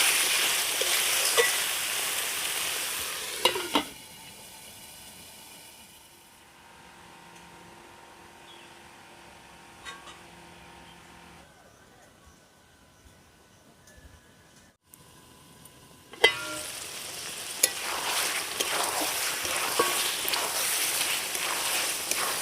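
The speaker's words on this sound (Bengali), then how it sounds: "আমি আবারও মাংস সেদ্ধ করে রাখা জলটা এক চামচ দিয়ে দেব এবার ঢাকা দিয়ে আমি কষিয়ে নেব" Mutton curry cooks covered in a pan after a spoonful of meat stock is added, with sizzling and frying that drops to a muffled simmer under the lid, then returns to a bright crackle when uncovered.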